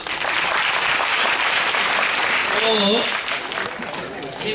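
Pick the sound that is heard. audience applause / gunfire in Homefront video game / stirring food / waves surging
audience applause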